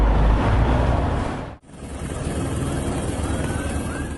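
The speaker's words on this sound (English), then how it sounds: "A helicopter was even brought in for the chase." A helicopter flies over a police chase after a stolen truck in Brazil, its loud broadband roar continuous apart from a sharp break near the start, then resuming at steady strength.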